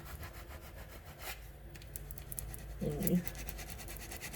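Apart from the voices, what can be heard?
scraping transfer tape onto a sign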